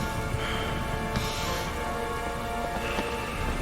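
Steady rain in the video game Heavy Rain pours with a dense hiss, and brief brighter splashes rise over it at moments.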